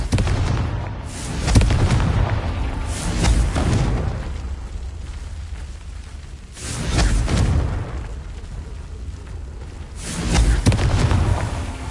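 Confringo spell blasts in the Hogwarts Legacy video game, three heavy booming explosions spaced a few seconds apart, each a loud broadband burst that swells and then rumbles away.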